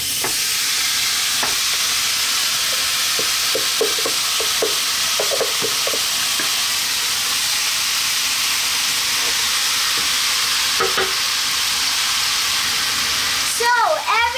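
Chicken curry sizzling in a hot pan, a loud continuous hissing fry with occasional stirring clinks and scrapes, steady for the whole stretch.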